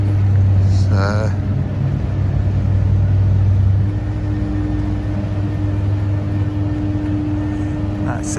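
A car ferry approaches the Fowey crossing, heard as a low, steady rumble that carries through the whole clip, with a brief tonal whine early on.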